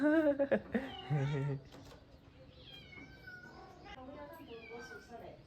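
Kittens meowing in a quick run of high, insistent cries, then quieter scattered mews and soft background sounds as things settle.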